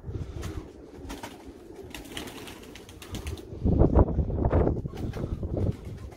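Pigeons flapping and cooing amid a busy outdoor wash of noise, with wing flutters growing louder toward the middle and continuing in bursts.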